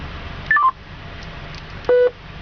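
A quick run of three descending phone dialing tones, then after a pause a longer single tone, clear and electronic, played through a car stereo's speakers.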